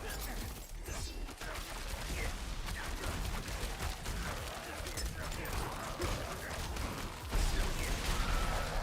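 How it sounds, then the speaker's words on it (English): Dense stream of overlapping blasts and crackling impacts from a video game build's explosions, steady and loud throughout, with a voice talking over the action. "Yeah, the extra explosions are kind of nice."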